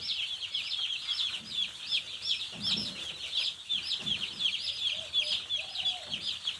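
Broiler chicks under a brooder keep up a dense, continuous high chirping, near and lively, with faint low rustles beneath.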